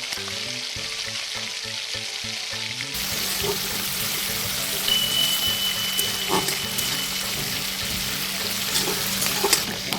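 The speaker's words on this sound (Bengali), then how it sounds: "ম্যারিনেট করা চিংড়ি মাছগুলো এই ভাজা পেঁয়াজের মধ্যে দিয়ে এটাকেও একটু ভালো মতো ভাজতে হবে" Marinated prawns frying among browned fried onions in a pan for a garlic-poppy-seed prawn dish, a loud, continuous close-up sizzle with stirring scrapes, starting after a brief quieter opening.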